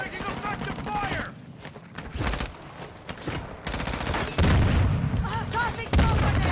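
Video game gunfire bursts and booms in a chaotic firefight, with rapid shots, heavy thumps and mechanical clatter, while voices and game callouts sound over the action.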